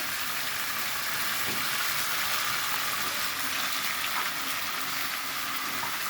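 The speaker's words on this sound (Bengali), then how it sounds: "এবার একটু বাটিটা দিয়ে আমি একটুখানি জল দিয়ে দেবো এর মধ্যে" A little water poured from a bowl into a hot pan for a potato and drumstick stem dish, raising a loud, even, continuous sizzle and hiss that stays close and unbroken.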